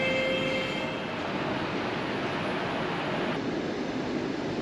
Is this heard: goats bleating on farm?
no